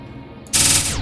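Phaser cannons fire in the space game Space Engineers, a sudden loud burst of rapid pulsing shots erupting after a quiet moment and ringing out briefly.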